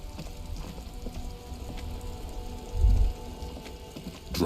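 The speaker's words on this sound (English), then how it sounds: "Droplets of rain fall on the white on blue police livery of the motor carriage." Rain in the video game Disco Elysium, falling on a police motor carriage: a steady patter of droplets under low rumbling ambience, with one deeper thud midway.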